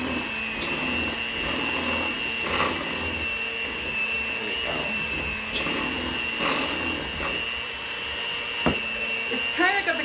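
An electric mixer whirs through almond thumbprint cookie dough, a steady high motor whine with intermittent scraping and thumping bursts as the dough turns crumbly, while someone talks over it.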